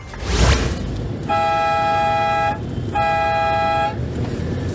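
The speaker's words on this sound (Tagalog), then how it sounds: "Ilang beses binisina ng rider dahil sa pabigla-biglang hinto at pagkain ng linya." Car horn on a highway in Davao City, sounded at a motorcycle rider swerving and stopping abruptly: two steady, loud honks of about a second each with a short gap, over road and engine noise.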